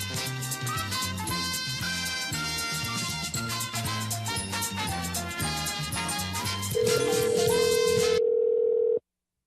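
A steady telephone dial tone comes through while a call is being placed, first under loud music and then alone and sustained for a couple of seconds before cutting off abruptly.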